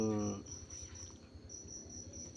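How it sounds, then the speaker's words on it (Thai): Newly hatched crickets in a rearing setup give a thin, steady high chirping trill that runs continuously, faint and close, after a brief low tonal sound at the start. "นี่แหละครับจิ้งหรีดฟักใหม่ช่วง"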